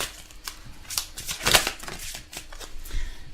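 Tarot cards shuffled by hand ahead of a love reading, giving a steady run of soft papery riffles and flutters at close range, with brief louder bursts partway through.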